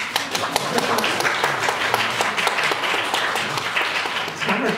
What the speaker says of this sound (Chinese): 谢谢各位这么热情的掌声